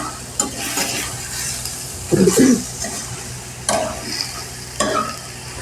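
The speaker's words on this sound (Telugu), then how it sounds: "మంచిగా అల్లం వెల్లుల్లి పేస్ట్ ఆనియన్స్ అన్నీ మిక్స్ అయ్యేలాగా మంచిగా కలుపుకోవాలి" Onions and ginger garlic paste for a chicken curry sizzle softly in a pan while a spatula stirs them, giving several distinct scraping strokes over the gentle frying.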